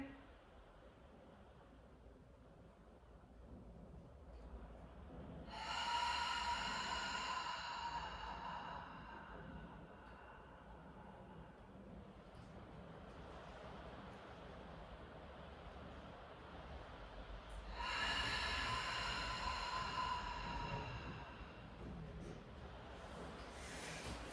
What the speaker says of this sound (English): just 2 more breaths just here